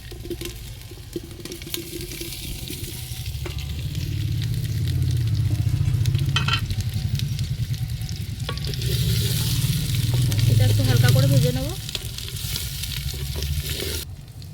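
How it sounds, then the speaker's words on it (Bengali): Boiled potatoes and lightly browned onions fry in a pan over a wood-fired stove, giving a steady sizzle that swells and fades, broken by scraping stirs and a few clinks. "এবার দিচ্ছি আমি পেঁয়াজ হালকা ব্রাউন করে ভেজে নিয়ে এবার সেদ্ধ করা আলুগুলো দিয়ে দিলাম"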